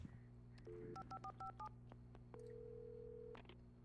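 Phone dialing in Alan Wake Remastered: a short series of clear touch-tone beeps in quick succession, followed by a steady tone, over a low background hum.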